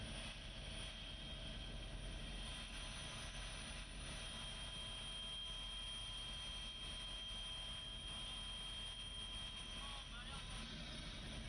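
Constant loud droning of a helicopter heard from inside the cabin on a flight from Tuting to Pasighat, a steady engine roar and rotor hum with faint voices beneath it.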